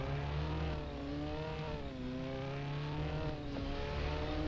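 Synthetic racing car engine from the mobile racing game Racing Go revs steadily at the start of a race, a sustained harmonic drone with slight pitch wobble that holds loud and constant throughout.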